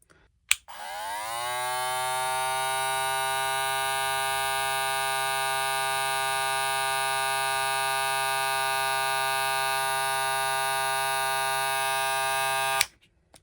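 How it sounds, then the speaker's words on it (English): Wahl Vapor cordless hair clipper switched on with a click, spinning up over a moment, then running at a steady, smooth, close buzzing hum for about twelve seconds before clicking off. "let's say the Vapor is 74 decibels, but it's kind of a smoother sound"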